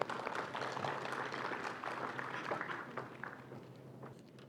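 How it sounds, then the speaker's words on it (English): Welcoming applause from the audience at the 2024 Palau International Women's Day National Forum, a steady, moderately loud spread of many hands clapping that tapers slightly toward the end. "Let us give her a round of applause"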